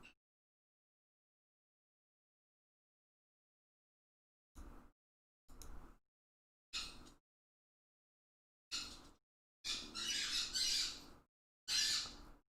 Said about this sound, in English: You're going to hear the birds